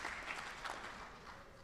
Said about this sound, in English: that gets a clap